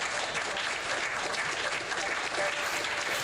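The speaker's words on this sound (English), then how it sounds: "I'm giving myself an applause for that one." Steady, dense applause from a crowd fills the whole stretch at an even level, with no voices standing out above it.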